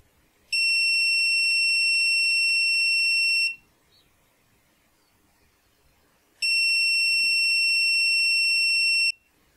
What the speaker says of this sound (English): you will hear this long, loud beep three times